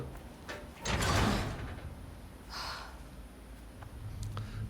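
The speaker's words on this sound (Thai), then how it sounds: "เปิดประตู" A door opens in the video game Resident Evil 4 Remake, with a loud sliding, creaking swell near the start followed by a fainter mechanical rush and quiet ambient tension; no speech.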